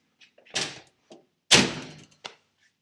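Two solid slams of a freshly rehung front door on a Toyota FJ40 Land Cruiser, each a close metallic thunk with rattling decay, framed by small clicks and latch taps.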